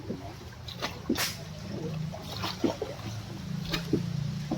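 Water sloshes and splashes around a small tourist boat on a ride in Vietnam, with irregular lapping and dripping bursts over a low steady engine-like hum.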